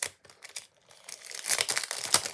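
A scrap of grey paper is handled during a papercraft die-cutting session, giving dry crinkling and rustling that starts in sparse, faint bursts and builds into denser, louder crumpling close to the microphone, with no talk.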